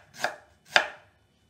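Ginger being chopped with a knife on a cutting board, two crisp separate thuds close by in an otherwise quiet room.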